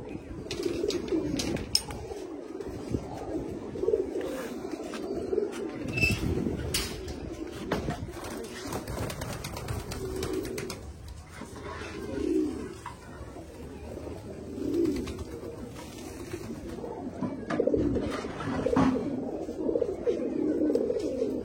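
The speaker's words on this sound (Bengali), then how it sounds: "এখানে প্রতিটা পায়রাই আন্ধ্রা ব্লাড লাইনের পায়রা, একটাও কোনো ম্যাড্রাজি পায়রা নেই আমার, সব আন্ধ্রা ব্লাড লাইন।" Andhra bloodline pigeons coo over and over in a loft. Several birds overlap in soft, throaty, rolling calls that keep going steadily, with a few sharper rustles and knocks between them.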